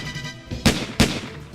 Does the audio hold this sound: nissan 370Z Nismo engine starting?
no